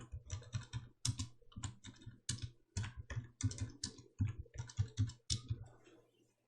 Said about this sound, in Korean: 엔터 눌러가며 계속 타이핑 하십니다